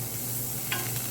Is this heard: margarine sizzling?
yes